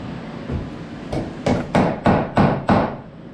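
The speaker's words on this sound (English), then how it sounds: "That's why it amazes me that Erik can drive a nail in without blinking." Hammer blows drive nails into wood on an off-grid shed being converted to a cabin, about seven sharp close strikes in a quickening steady rhythm, alone without talk.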